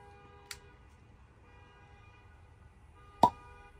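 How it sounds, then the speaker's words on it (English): A cork pulled from a bottle of Kavalan ex-Bourbon Oak whisky gives one sharp, close pop near the end of a quiet stretch, with a fainter tick a few seconds earlier. "let's see if we can get a really good cork pop here"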